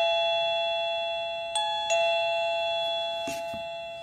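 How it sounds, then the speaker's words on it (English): A wireless remote-control doorbell chime rings clearly, a steady electronic tone with a couple of short ding accents partway through, fading slowly, with no one speaking. "We will be using a remote control doorbell"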